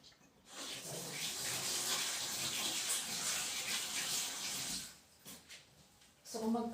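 Tap water runs steadily while hands are washed under it, a soft hissing gush that stops abruptly, followed by faint household sounds.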